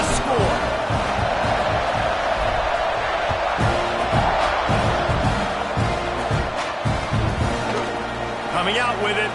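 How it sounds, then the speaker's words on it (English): Stadium crowd in the NCAA 26 college football video game, a dense, constant roar and buzz filling the whole stretch after a score, with a commentator talking over it throughout. "this crowd is buzzing after that last score"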